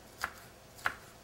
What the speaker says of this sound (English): I'm going to cut in half, pull out the seeds.